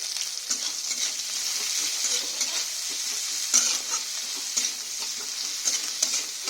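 Chopped onion sizzles steadily in hot oil in a pan, a close, continuous crackle broken by occasional scrapes and clinks of a stirring utensil, with no talking.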